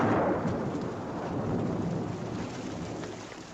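Steady rain pours down outdoors in a wartime scene, a dense continuous hiss with a low rumbling undertone of distant thunder, fairly loud and constant throughout with no voices.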